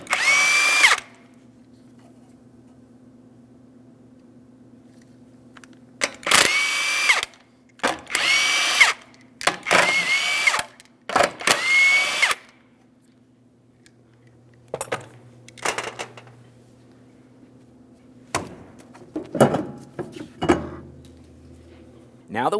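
An impact gun zips off the five 21mm lug nuts on a 2003-2008 Toyota Matrix wheel in several loud, separate bursts, with pauses and clinks between them, set against a steady low hum.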